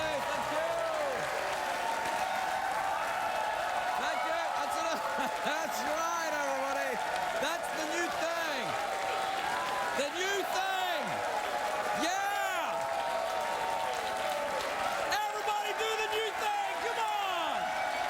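Studio audience at a Los Angeles late-night talk show applauding and clapping, a dense steady wash of claps with some cheering that fills the whole stretch, voices audible underneath.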